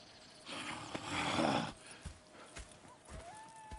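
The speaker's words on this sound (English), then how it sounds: "Go check the horses are ready." Horses in the Red Dead Redemption 2 video game, with a loud whinny followed by a few soft hoof clops nearby in a quiet setting.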